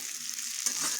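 Pieces of young jackfruit fry in oil in a pan with a soft, steady sizzle and a quick stir partway through, fairly quiet and close.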